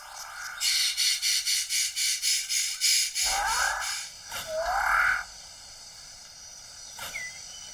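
Frogs croak in a New Guinea forest: a rapid series of about a dozen pulsing calls, then scattered whistling chirps and a few later calls, fairly close against a quiet background.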